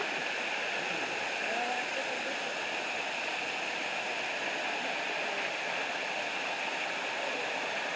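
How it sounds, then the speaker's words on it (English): A waterfall in the hills of Portland, Jamaica roars with a steady, dense rushing hiss, loud and close, unbroken from start to finish with no other sound standing out. "We're talking about waterfall in Jamaica."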